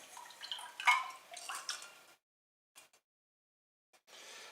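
Liquid poured into a pan while making golden milk, a short trickling splash up close that stops abruptly, followed by a few faint drips and quiet.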